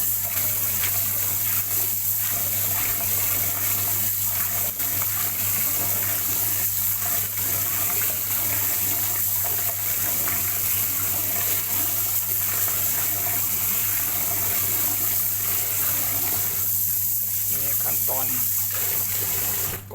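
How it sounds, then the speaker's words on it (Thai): Soybeans being rinsed for homemade soy milk, with steady running and splashing water throughout and someone talking over it. "เราจะล้างได้หลายน้ำนะครับ เราต้องล้างให้สะอาดนะครับ"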